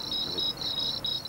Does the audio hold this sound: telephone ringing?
no